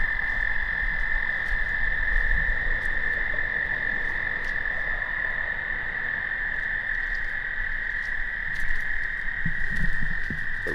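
A dense chorus of frogs croaks and trills continuously at Bachelor's Grove Cemetery, a steady high-pitched drone with scattered individual calls, no talking.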